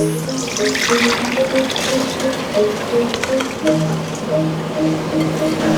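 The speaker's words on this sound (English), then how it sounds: "So let's drain the rice." Water poured off soaked rice being drained while preparing Sundanese nasi liwet, a steady close splashing trickle that runs continuously, with a voice talking over it.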